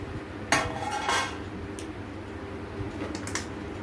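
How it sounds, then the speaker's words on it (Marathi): Mango pickle being stirred with asafoetida, turmeric and chili powder in a metal vessel, giving a few sharp clinks and scrapes of a spoon against the pot, with quieter rustling between them and no one speaking. "आपल्याला हे सगळं एकत्र मिक्स करायचं आहे."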